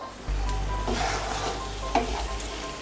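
Taro curry gets stirred in a hot pan over raised heat, a low steady sizzle running under occasional scraping strokes of the spoon, close and fairly loud with no voices.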